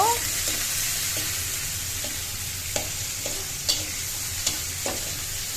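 Chopped onions are stir-fried in a pan for noodles, making a soft continuous sizzle broken by several sharp spatula scrapes and taps against the pan.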